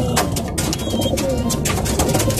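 A tippler pigeon coos close by, soft low murmuring calls with rustling and outdoor background noise filling the short stretch.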